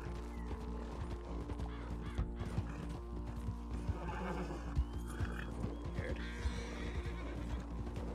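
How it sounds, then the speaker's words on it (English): A horse whinnies amid close clopping hooves and background game ambience in Red Dead roleplay, with the neighing rising in the middle of the stretch. "Come on, horse. Come on."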